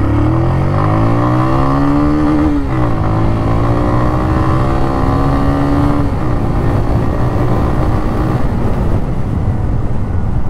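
A 2024 Kawasaki W175 motorcycle with a two-valve, air-cooled 177cc single-cylinder engine accelerates in first gear, its loud, close exhaust note climbing steadily in pitch and briefly dipping before rising again.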